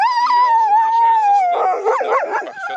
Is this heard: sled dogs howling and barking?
yes